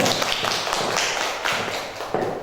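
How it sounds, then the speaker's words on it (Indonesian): Applause from a school audience at a teacher dissemination session, a steady wash of many hands clapping at close range for the whole stretch. "Tepuk tangan untuk semuanya."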